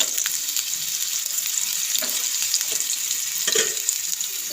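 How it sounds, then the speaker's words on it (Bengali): Potato pieces fry in hot oil for a Bengali amudi fish curry, giving a steady close sizzle with occasional stirring scrapes and no voices. "আলু দিয়ে দিয়ে তেলের মধ্যে আলুটা ফেলে দিয়েছি এবার আলুটা ভেজে"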